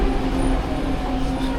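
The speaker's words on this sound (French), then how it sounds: "Le train est ancien et plein, c'est horrible." An old, crowded metro train in Vancouver rumbles steadily at close range, with a continuous low drone and a faint tonal hum running throughout.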